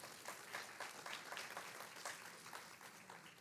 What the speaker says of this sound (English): Could you please give her a round of applause